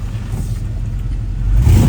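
Engine of a 1969 Chevrolet Camaro with an LS swap idling with a deep steady rumble, then swelling slightly louder as the throttle is blipped near the end.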